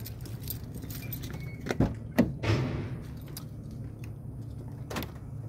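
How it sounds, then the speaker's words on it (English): A car door is handled at close range: a jangle of keys, a couple of sharp thuds around the latch, then a soft sliding swish as it opens, with a steady background hum. "I locked the door, so let me open it up"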